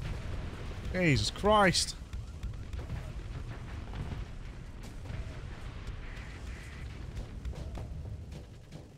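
Missiles and weapons fire in the space combat game Starsector, with two rising whistling launches followed by booms and a steady rumble of battle; a man exclaims briefly near the start.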